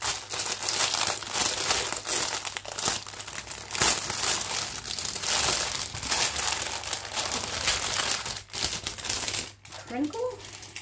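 Plastic packaging from a stamped cross stitch kit crinkles loudly and almost without pause, with brief rustles and crackles as it is pulled open, and a voice speaks near the end.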